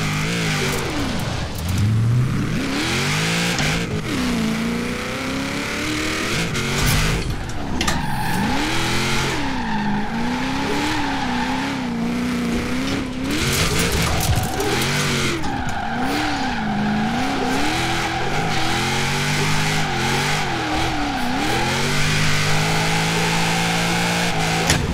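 A car in Forza Horizon 4, fitted with an 8-litre engine, revs hard and wails through gear changes while its tires skid and squeal almost continuously, loud and close, with no talk.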